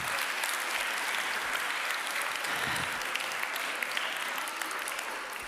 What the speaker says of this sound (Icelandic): Ef ekki að gefa þeim enn betra klapp